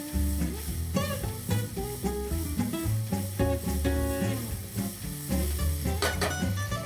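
Pancetta rendering and browning in a pan, sizzling steadily while being stirred, with a tonal background bed of music running underneath throughout.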